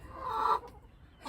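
A single timid backyard hen gives a short, soft cluck at close range, followed by quiet.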